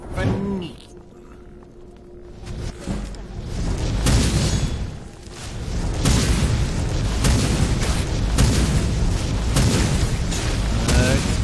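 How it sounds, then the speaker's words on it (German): Deep booming explosions in the fantasy video game Skyrim Special Edition, heavy rumbling blasts that swell and roll on continuously at close range, loud and dense, with game sounds layered over them. "Explosions."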